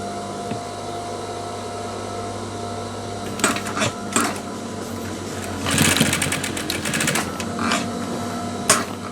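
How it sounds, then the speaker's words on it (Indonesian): A sewing machine stitches the collar of a denim jacket, its steady motor hum running throughout with several louder bursts of rapid needle chatter, close and clear with no voices. "Jadi kita menjahit sekarang dari bagian kiri."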